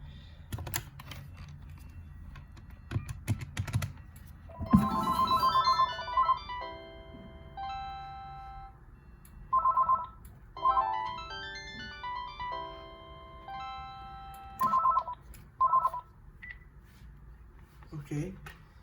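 A Panasonic KX-TG222B DECT 6.0 cordless phone rings during a test call, giving bright electronic melodic bursts that repeat about every five seconds, with a few clicks and handling knocks near the start.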